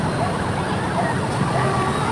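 Sirens from emergency vehicles, likely fire trucks, wail steadily across a large neighborhood fire at Vargas Compound on Visayas Avenue, Culiat, with continuous background din throughout.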